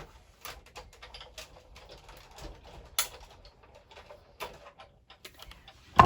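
Die cutting machine running card through a second pass, producing faint, scattered clicks and soft ticking taps at a low level, with no voices.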